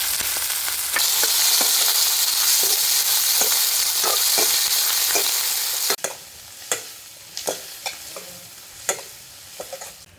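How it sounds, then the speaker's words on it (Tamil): Small shallots and chillies frying in an oil-filled pan in a village-style kitchen, a loud continuous sizzle punctuated by regular scraping stirs of a spoon, the hiss dropping partway through so the stirring clicks stand out. "சின்ன வெங்காயம் சேர்க்கிறேன். அதோட கறிமிளகாயும் சேர்க்கிறேன்."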